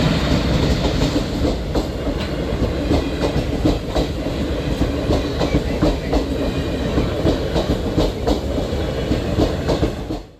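Passenger trains roll past a railway level crossing gate, a loud, close, continuous rumble with rhythmic wheel clatter over the rails lasting throughout, with no speech.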